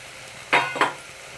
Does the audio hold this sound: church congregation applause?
no